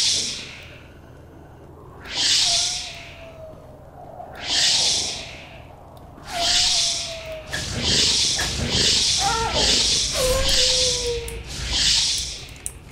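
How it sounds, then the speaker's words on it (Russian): Wolves in the video game Gothic 3 give a series of rough, breathy growls and snarls, repeated bursts that grow closer together toward the end, over a low ambient hum. "А чё волки здесь?"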